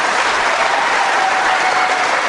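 Loud, dense applause from a political rally audience fills the space continuously, a steady wash of clapping with no pauses or voices over it.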